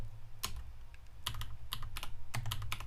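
Computer keyboard being typed on in short bursts of close, crisp key clicks with brief pauses between them, over a low steady hum, with no voices.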